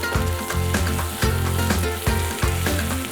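Brinjal masala mixture stirred in a hot pan, with a steady loud sizzle and frying crackle and a repeated scraping stir rhythm about every second, close up with no talking.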